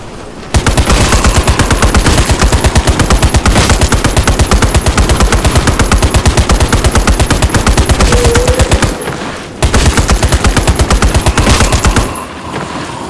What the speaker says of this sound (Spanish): Los disparos continúan.